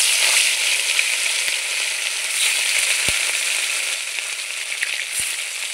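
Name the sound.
fish frying in oil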